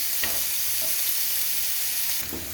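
Onion paste fries in a pan over a low flame, a continuous close sizzle with brief stirring scrapes and small spatters.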